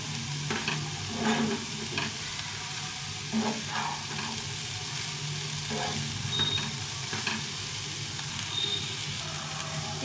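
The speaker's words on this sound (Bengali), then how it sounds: "এটাকে ভালো করে একটু ভেজে নেব।" Momo filling with salt is fried in a pan, with soft, quiet sizzling under intermittent scraping and stirring strokes of a utensil, no talk.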